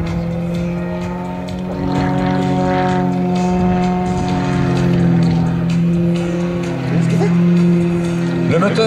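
A 300-horsepower CAP 231 aerobatic plane drones steadily with its propeller engine, loud and continuous, its pitch shifting slightly as it maneuvers.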